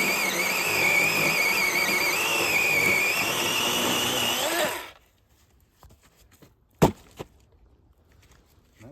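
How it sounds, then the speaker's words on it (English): A small battery-powered chainsaw whines steadily while cutting wood, then stops abruptly, leaving near silence broken by a sharp knock and a few faint clicks. "This little battery operated saw, it's going to bind, and let it cut its own groove"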